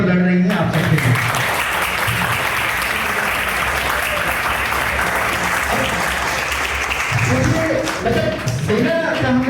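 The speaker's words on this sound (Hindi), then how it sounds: "और तालियां हमारी सेना के लिए भी कर दीजिए" Audience at a university road-safety talk breaks into loud, sustained applause for the army, a dense wash of clapping under brief voices at the start and end.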